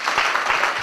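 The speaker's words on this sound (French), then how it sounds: "Est-ce qu'on peut une fois de plus applaudir?" Applause from an audience at a school gala evening at Lycée du Manengouba, a brief, dense wash of many hands clapping at steady, fairly loud level with no pauses.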